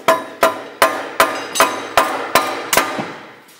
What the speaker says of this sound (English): It's the hammer.